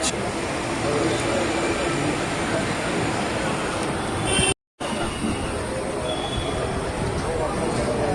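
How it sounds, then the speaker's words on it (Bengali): The Kolkata–Sairang Express pulls away from the station, a steady loud rumble of rolling wagons heard from on board, broken by a brief dropout, with muffled voices under the noise. "এই ট্রেন ছেড়ে দিলো পুরো টাইম।"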